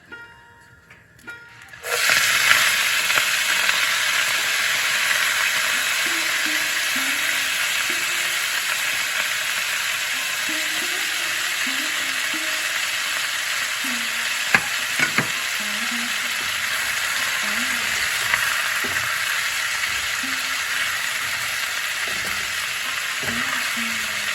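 After a brief quiet start, pui, kalmi and red amaranth greens hit hot oil with blackened chilli and fry in a pan, a loud steady sizzle with occasional stirring scrapes throughout.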